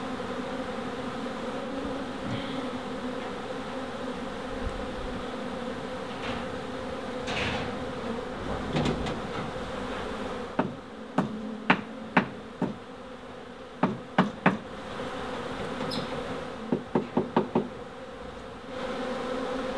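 Disturbed honey bees buzzing around old brood comb during a cut-out, a steady low hum under a string of sharp knocks and taps toward the end, close, no speech.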